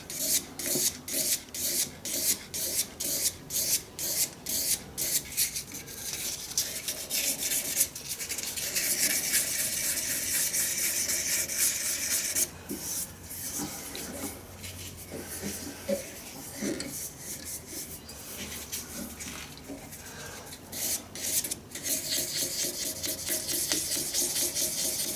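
A wooden shaving brush handle spinning on a lathe while being sanded with 400 grit paper, first in quick rhythmic scratchy passes, then a continuous close rubbing hiss.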